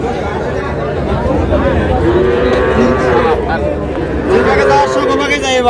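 A four-month-old bull calf moos loudly and at length at a busy cattle market in Jessore, with people chattering and bargaining all around it.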